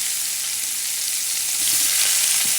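Sliced onions fry in hot oil in a home kitchen pan, giving a loud, steady, hissing sizzle that runs without a break and grows slightly louder toward the end, with no speech.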